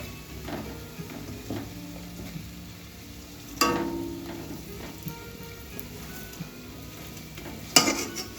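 Lentil fritters (bora) for doi bora fry in hot oil with a soft, steady sizzle, broken by occasional stirring and a couple of sharp metal utensil clanks against the pan, close and fairly quiet.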